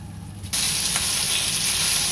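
Chicken wings dropped into hot oil, with a sudden loud, steady sizzle of frying that starts about half a second in and continues without talk.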